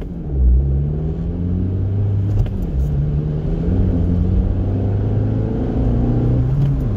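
Suzuki Swift Sport ZC33S hybrid engine with a cold engine in snowy conditions, its low steady rumble rising and falling gently through light revs, close and continuous with no talk.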